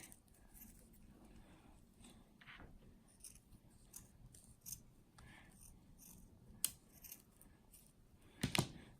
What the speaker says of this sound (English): We're gonna cut those like this on both sides.